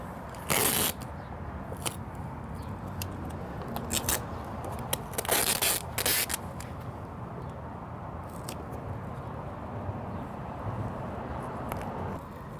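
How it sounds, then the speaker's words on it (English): Masking tape is pulled and pressed around a car headlight lens, with a few sharp tearing rips and crackling peels over a steady background hum. "So I will just tape it around"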